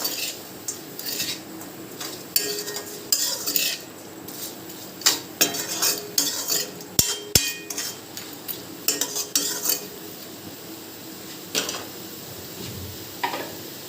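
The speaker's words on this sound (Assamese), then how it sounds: "এতিয়া ধুনীয়াকৈ আকৌ মই লৰাই দিম।" A spoon stirs local chicken with salt in a metal cooking pot, producing repeated scraping and clinking strokes with a faint sizzle underneath, close and fairly loud, no voices.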